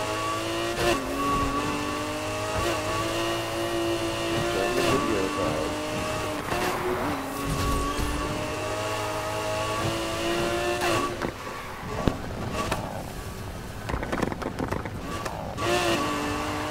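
Race cars in Need for Speed Heat roar steadily as engines rev and climb through gears, with rising and falling pitch sweeps and a few louder surges over a constant mechanical drone.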